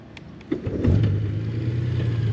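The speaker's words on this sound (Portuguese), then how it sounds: "está a passar as mudanças uma a uma, a fazer um reset" Honda Goldwing with a DCT gearbox, a sharp mechanical clunk followed by an engine settling into a steady low idle hum, close by with no talk.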